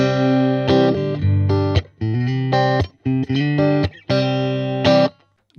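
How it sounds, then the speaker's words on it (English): A Stratocaster electric guitar played straight into a 5-watt all-valve Honeyboy amp with no pedals rings out in clean, sustained chords and notes, phrases separated by short gaps, loud and close. "This is the guitar going straight into the amp, so you're hearing all that lovely tone coming from the Strat and the Honeyboy."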